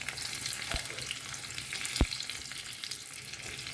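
Garlic hits hot oil already heated with cumin seeds, giving a continuous moderate sizzle close by, broken by two brief knocks of a spoon on the pan.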